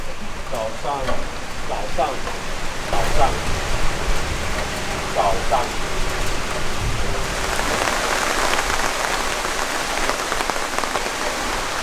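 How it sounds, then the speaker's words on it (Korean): Heavy rain pours down in Ansan, a dense, continuous hiss of drops on surfaces with faint voices now and then beneath it. "안산에 비가 이렇게 많이 오는데"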